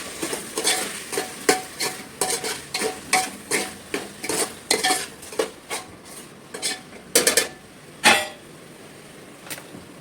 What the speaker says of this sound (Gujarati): મીઠું નાખીને હલાવી નાખવાનું એટલે ટમેટાની બધું મીઠું પાકું જાય.